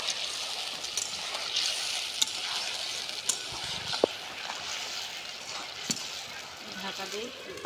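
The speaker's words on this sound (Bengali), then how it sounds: "মশলাটা আস্তে আস্তে করে কষে নিচ্ছে আমরা" Masala with a whole tomato sautés in a pan, a soft continuous sizzle and fry with occasional light clinks of a spoon against the pan, fairly faint and close.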